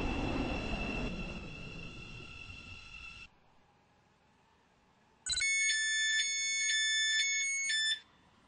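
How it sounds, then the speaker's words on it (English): Class 717 train in the Stepford Connect video game arriving at Morganstown: a steady rumbling run with a high whine that stops, a quiet pause, then a loud tonal multi-note chime or alert holding for almost three seconds. "We will shortly be arriving at Morganstown."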